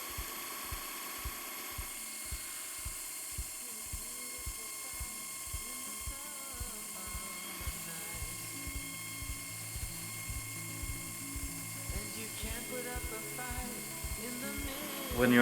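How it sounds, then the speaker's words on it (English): An ordinary drilling machine spins a screw-type ice racing tire stud while it is ground, giving a steady, regular ratcheting mechanical whir with rapid repeated pulses throughout, close and moderately loud. "So you will spin the screw at the same time as you are grinding it."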